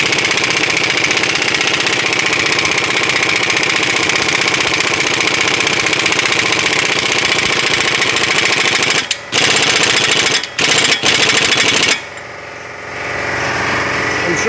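On a 2006 Mercury Montego, a power tool runs the CV axle nut tight in a loud, continuous rattling burst. It breaks into a few short stuttering pulses near the end, then stops.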